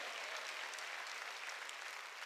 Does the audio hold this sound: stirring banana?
no